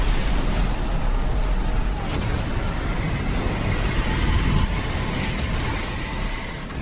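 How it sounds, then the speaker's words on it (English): Mount Vesuvius erupting in a film about Pompeii: a loud, continuous roaring rumble with dense crackling that holds steady for several seconds without a break. "Mount Vesuvius erupted more powerful than the last time."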